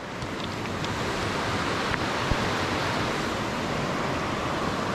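River water rushing past a creek crossing in a forested waterfall area, a steady broad wash of flowing water heard close and loud throughout, with no voices.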